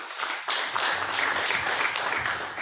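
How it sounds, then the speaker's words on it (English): An audience at an urban water innovation conference breaks into sustained applause, a dense wash of many hands clapping steadily for a few seconds. "Can we please invite him with a big round of applause?"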